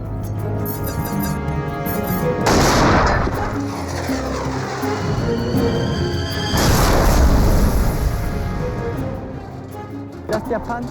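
Heavy booms from a World War II tank battle between a Tiger and a Sherman, with two loud, sustained blasts rumbling under a narrating voice and dramatic background sound.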